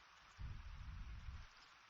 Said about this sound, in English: we're doing it in the rain